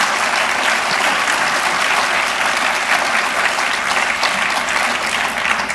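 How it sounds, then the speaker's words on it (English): Sustained applause from an audience honoring teachers at a 2014 county Teacher of the Year ceremony fills the room, dense and even from start to finish. "I ask that we give them a round of applause, and a much-deserved round of applause."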